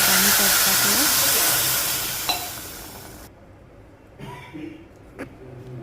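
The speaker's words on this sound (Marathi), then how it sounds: "1 मिनिट परतवून घेतलं आणि ग्लासभर पाणी त्यात टाकलं" A glass of water goes into a pan of frying drumstick pods and potato pieces for a curry. Loud sizzling and steam hiss fade as the water settles, followed by quieter bubbling and a few light clinks.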